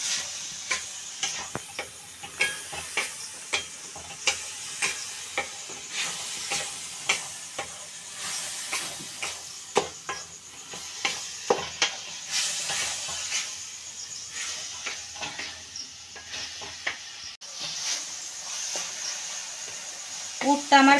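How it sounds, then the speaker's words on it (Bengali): A spoon stirs sweet pitha filling in a hot pan, scraping and tapping in a steady repeated rhythm of close, crisp strokes over faint hiss, with soft talk in the background. "এখন ভালোভাবে নাড়তে হবে"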